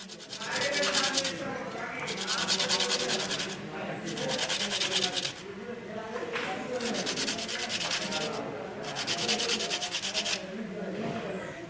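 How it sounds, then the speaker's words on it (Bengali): Emery paper rubs a metal tube smooth in repeated back-and-forth strokes, a close, steady rasping hiss in rhythmic bursts with brief pauses between. "আমরা ইমারি পেপার দিয়ে এটাকে ঘষে মসৃণ করব।"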